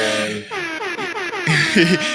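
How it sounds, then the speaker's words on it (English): A short, loud air horn sound effect blares in quick stuttering pulses, brash and buzzy, close up. "Nice round of applause for you, Eli, and an air horn, of course."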